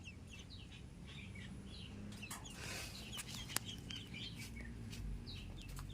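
Ducklings peep in quick, repeated high chirps scattered through the clip. The chirps sit at a moderate level over a steady low rumbling background.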